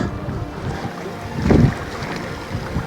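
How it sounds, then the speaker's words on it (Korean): Strong coastal wind buffets the microphone on a fishing outing, a steady rushing gust swelling to a heavier blast midway, with no talking. "여긴 바람이 좀 드센데"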